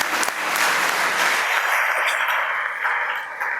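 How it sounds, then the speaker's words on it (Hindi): Audience clapping at an Ashadha Purnima Buddhist gathering, a dense, fairly loud burst of applause that swells quickly and stays full before easing slightly near the end. "तालियां बजानी चाहिए।"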